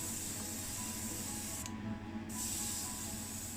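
Candy apple paint hisses steadily from a spray gun onto a VW Beetle Baja Bug, one continuous close spray that drops out for about half a second and then resumes.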